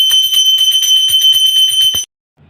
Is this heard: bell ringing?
yes